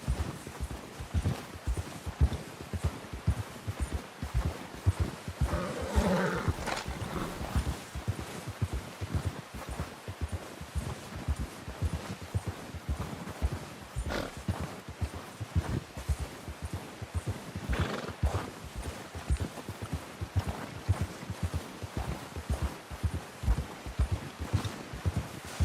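Horses walking in the Red Dead Redemption 2 video game: a continuous, steady clip-clop of hooves at a relaxed walking pace, moderately close, with at most a faint snort or whinny mixed in.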